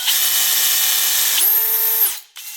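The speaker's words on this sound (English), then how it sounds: "We're putting in a drill." A power drill whirs loudly and steadily while working on a 450cc dirt bike engine rebuild, briefly winds up to a higher pitch, then spins down and stops, close to the listener.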